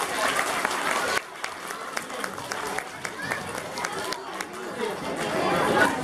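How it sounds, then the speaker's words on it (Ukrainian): Festival audience at a Ukrainian song festival clapping in scattered, uneven bursts, with a sudden drop after the first second and rising again toward the end, mixed with crowd chatter and occasional nearby voices. "Оплески, будь ласка."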